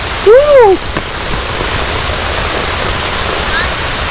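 Heavy rain pours steadily in a dense, loud hiss throughout, outdoors in Vietnam. Near the start, a brief high, sliding vocal sound rises and falls over it.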